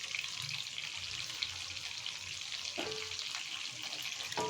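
Tilapia pieces frying in hot oil, a steady soft sizzle that crackles continuously at low volume, with a couple of faint clinks near the end and no voices.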